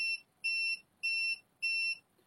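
An Arrma Big Rock 223S RC truck's electronics give four evenly spaced, clear, high electronic beeps, each lasting about a third of a second, while its DSC level is being set, in an otherwise quiet room.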